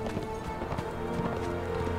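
Rhythmic hoofbeats of a horse galloping in the Conan Exiles survival game, steady clip-clop running continuously over a dense bed of in-game ambience and music.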